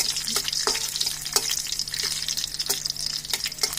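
Garlic fries for chow mein in a steadily sizzling pan, close and fairly loud, with a spatula scraping and tapping at a loose, irregular rhythm and no voices.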